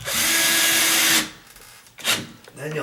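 Power drill driving screws into a sagging double door, a loud whirring burst of about a second followed by a pause and a brief second pulse, with a voice speaking nearby.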